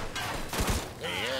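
Gunfire erupts in the Mafia 2: Definitive Edition hostage rescue, a short burst of sharp shots at mid-clip amid game sound and muffled voices.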